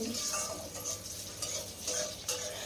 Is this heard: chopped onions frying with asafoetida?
yes